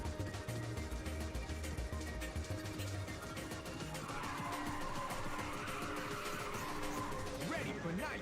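Tires squeal through a drift in Ridge Racer 2 on the PlayStation Portable, a drawn-out screech over steady engine roar while an announcer's voice talks over the racing.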